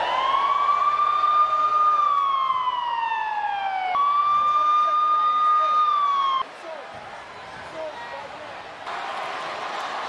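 A wailing emergency siren from a WWE RAW wrestling event sweeps up and down in long loud cycles, then cuts off into crowd and arena noise.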